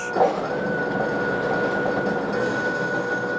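A steady, loud mechanical whir with a constant high whine, running continuously and close by: the two-stage auger of a Toro 26-inch 60-volt battery snow blower churning.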